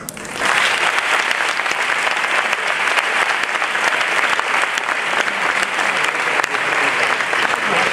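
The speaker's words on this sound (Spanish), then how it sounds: "y vamos a darles también a ellos un fuerte aplauso." An audience at a presentation and farewell event in Seville bursts into loud, steady applause, a dense wash of many hands clapping that holds evenly for several seconds without talk.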